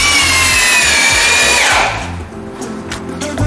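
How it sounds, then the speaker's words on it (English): A power drill whines loudly while driving self-tapping deck screws into wood for a raised garden bed frame. The motor pitch drops as the screw seats, and then the sound cuts off, leaving a lower rumble. "just screwing together some pieces of wood"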